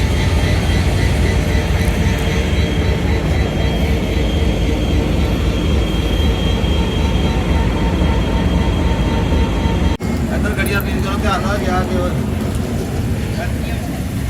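Locomotive 8224 attached to the Sir Syed Express stands at a station, giving a loud, steady low rumble that runs throughout with a brief break near the end and muffled voices underneath.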